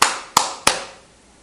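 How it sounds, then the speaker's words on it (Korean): Three sharp hand claps sound close by in a church sermon setting, spaced unevenly with a short reverberant tail after each, then the room fades to quiet. "하나님이 박수 쳐준 거예요."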